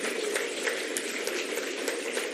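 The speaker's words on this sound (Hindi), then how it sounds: "तालियों में कमी नहीं रहनी चाहिए।" A crowd at a political event in Karol Bagh applauds in a continuous, loud patter of many hands, with a few sharper claps standing out over the steady roar.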